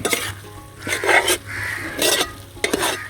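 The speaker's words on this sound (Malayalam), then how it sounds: "ഇനി നമുക്കിതെല്ലാം കൂടിയിട്ടൊന്ന് ഇളക്കി കൊടുക്കാം" Beef curry is stirred in a pan with a spoon, scraping and clinking against the metal in several bursts over a steady low sizzle, close by with no talking.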